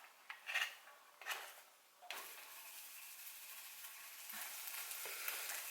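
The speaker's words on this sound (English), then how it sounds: "So I'm just gonna let it saute for, I don't know," Onions and garlic sautéing in a pan, a few clattering stirs at first and then a steady, soft hiss of sizzling that carries on alone.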